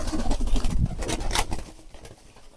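Pigeons peck at grain scattered on the ground, a close, busy patter of soft taps and shuffles that is loudest at first and then thins out.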